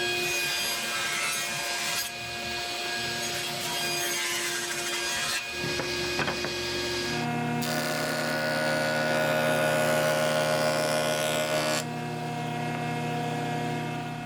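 Saw cutting a taper along a wooden piece held angled off the fence by a glued-on block, a steady whining cut that changes pitch partway through and runs close and loud throughout.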